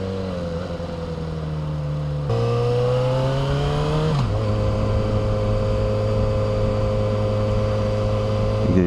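Steady engine and wind noise while riding a motorcycle, picked up by rider-worn mics at speed, with a droning tone that shifts pitch as the revs change, loud and continuous with no talking.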